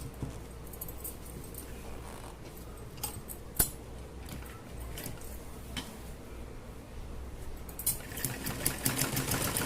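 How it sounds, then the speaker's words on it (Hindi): A sewing machine stitches a cotton roti basket cover with a steady, close mechanical whir, running continuously with slight changes in intensity and a few small clicks. "फिर उसके बाद सिलाई लगाना स्टार्ट कर देंगे।"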